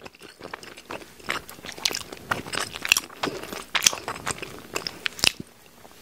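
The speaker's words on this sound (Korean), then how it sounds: "크림 떡볶이를 먹어볼게요" Someone bites and chews cream tteokbokki rice cakes up close, with soft crunchy and sticky mouth sounds that repeat in an irregular rhythm. No talk is heard.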